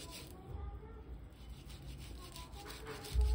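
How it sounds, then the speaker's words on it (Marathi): A partly boiled potato is rubbed against a kitchen grater in quick, repeated scraping strokes, soft and close in a quiet kitchen. "त्यामुळे थोडंसं हे किसून घेते मी बटाटा अगोदर"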